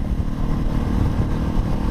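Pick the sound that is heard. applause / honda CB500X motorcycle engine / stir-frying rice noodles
honda CB500X motorcycle engine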